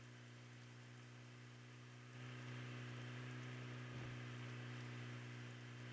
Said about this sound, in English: it's making a noise like it's raining